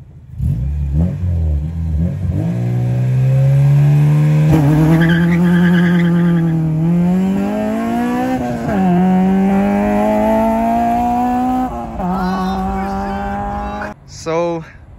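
A 2002 Acura RSX Type S races a 2015 Mazda 6 from a dig, its engine revving hard through rising gears with brief shift pauses, loud and close, ending with a short tire squeal.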